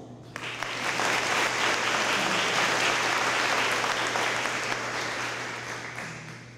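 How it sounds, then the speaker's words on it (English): A steady wave of audience applause at a National Honor Society induction ceremony fills the room, swelling quickly and then holding for several seconds with dense, even clapping from many hands before slowly tapering. "Please join me in thanking them with a round of applause."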